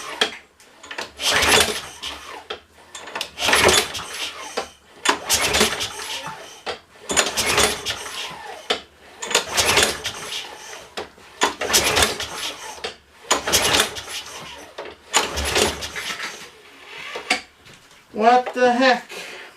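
Repeated starter-cord pulls on an old lawn mower with a dry carburetor, about eight sharp rasping bursts in a steady rhythm, each followed by a short pause, close and fairly loud, with no engine catching.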